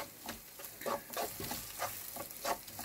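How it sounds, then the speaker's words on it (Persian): Oily sizzling with intermittent scraping and stirring strokes, a close, steady frying sound with no voices, as tomato paste fries with onions. "دو قاشق غذاخوری که رب داریم رو اضافه میکنیم با پیاز مخلوط میکنیم و میذاریم"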